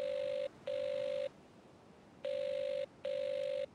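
Telephone ringing in the Evil Under the Sun video game: clean electronic rings in two double bursts separated by a silent gap, steady in pitch and fairly quiet.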